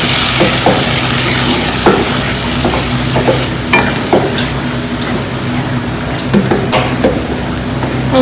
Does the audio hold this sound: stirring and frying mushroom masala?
yes